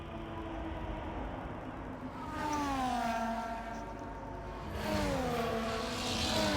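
Race car engines in the F1 24 video game on a formation lap, revving and sweeping up and down in pitch as cars pass, moderately loud and continuous with no talk.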